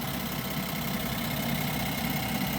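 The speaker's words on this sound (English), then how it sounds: "I just feel like it shouldn't sound this clicky, this ticky," A 2025 Ram 1500 SST engine idles steadily nearby with a fast, light clicking tick mixed into its hum, and no one talks.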